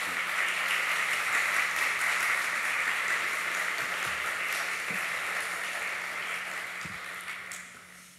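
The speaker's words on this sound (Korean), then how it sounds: "우리 큰 박수로 우리 하나님께 감사하면서 우리 맞이해 주시면 감사하겠습니다" Sustained applause from a church congregation welcoming the middle and high school department leaders and teachers at a Sunday worship service, a steady wash of clapping that fades slightly toward the end.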